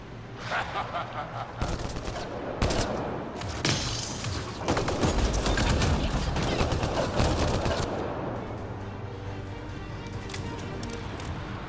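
Combat gunfire in Mass Effect Andromeda, scattered shots and bursts mixed with thumps and game effects, moderately loud, dense in the middle and thinning out toward the end.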